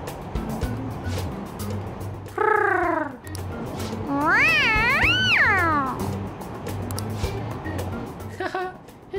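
A cat in the Persona 5 video game meows twice, a short cry and then a longer, wavering, drawn-out one, over a low humming game background, with a brief faint third mew near the end.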